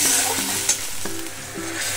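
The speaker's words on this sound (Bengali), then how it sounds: "আমি এবার ভালোভাবে নাড়ব" Masala paste for a katla fish kalia is stirred in a pan, a steady sizzle of frying spices broken by a few scraping strokes of the spoon, close and fairly loud with no talking.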